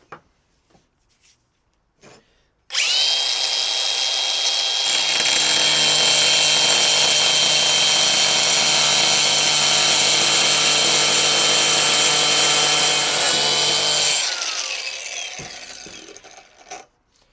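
A diamond grinder blade cuts ceramic subway tile with a loud, steady high-pitched grinding whine. It runs continuously for about eleven seconds, then winds down into quiet.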